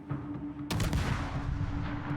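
Ship guns fire on a French torpedo boat in World of Warships, a sudden loud close blast followed by a rumbling, crackling volley that trails off over engine hum.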